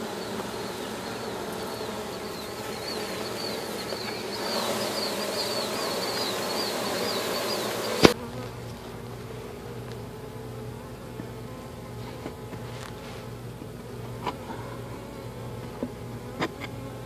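A honeybee colony buzzes loudly during a cut-out removal in Haines City, Florida, a dense swarm drone filling the first half before dropping to a quieter steady hum after a sharp knock, with scattered close bees passing.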